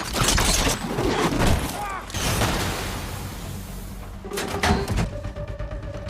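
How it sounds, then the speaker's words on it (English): Bursts of gunfire crack out amid a busy, noisy scene as mercenaries surround a house, with loud rapid shots early on and more later, mixed with clattering and mechanical sounds. "Gunfire erupts."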